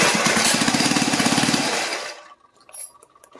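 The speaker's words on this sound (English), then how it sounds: "Let's just see if we can get it to start and run naturally aspirated through this like big manifold." Supercharged mini bike engine, run naturally aspirated through a big intake manifold, cranking loudly with rapid chugging pulses for about two seconds, then cutting out abruptly into near silence with faint clatter afterward.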